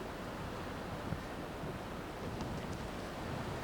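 Strong wind blowing outdoors at Sanibel on the Florida coast, a constant broadband roar buffeting the microphone, steady and loud with no voices.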